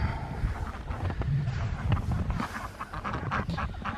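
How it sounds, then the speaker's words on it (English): Ducks quacking outdoors on a snowy, windy day, their calls scattered and moderately close amid steady wind rumble on the microphone. "See the ducks hanging out."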